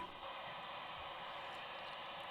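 Steady hiss of static from a Baofeng UV-5R handheld radio receiver during a sensitivity test, an even, continuous broadband noise at moderate level with no voices.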